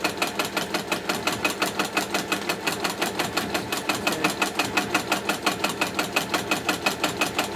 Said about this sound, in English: this is just a straight stitch machine